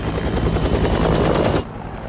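Helicopter in an action video game, a loud, dense rotor chopping with rapid thumping for about one and a half seconds, then cutting abruptly to a quieter background.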